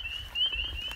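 A wood frog is heard in a wetland: a thin, steady high-pitched calling runs through the whole moment, with soft low rumbles beneath.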